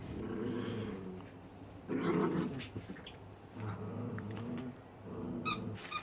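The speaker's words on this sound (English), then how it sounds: "if you hear my dog in the background" A dog growls and grumbles playfully in bursts, with short pauses between, fairly close and moderately loud.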